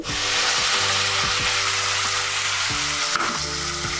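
Tomato puree hits a hot pan with garlic for vegetable dum biryani, giving a loud, dense, continuous sizzle close up, with a brief clatter near the end and no speech.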